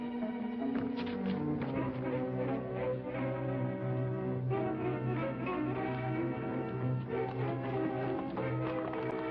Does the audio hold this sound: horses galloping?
yes